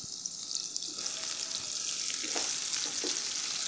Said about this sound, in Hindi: प्याज को हम थोड़ा सा पकाएंगे।